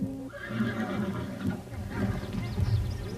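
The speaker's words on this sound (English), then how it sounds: "The horse is a 3-year-old mare, Mona." A three-year-old mare whinnies loudly and close by, a long, wavering neigh over outdoor rumble and shuffling, near Birney, Montana.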